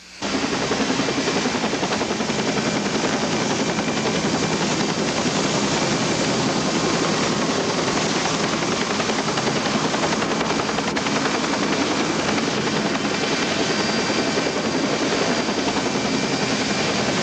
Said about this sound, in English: I saw the rotor of a helicopter going around right below me